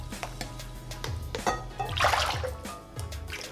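Soup stock is poured into a kimchi seasoning mixture of rice glue and salted shrimp paste, making a close, uneven splashing and gurgling pour that swells in the middle and then tapers off.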